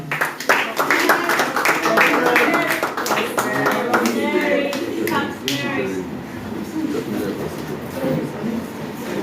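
Audience clapping at an intern students' presentation, a dense burst of applause in the first half that thins into scattered claps, with talk alongside.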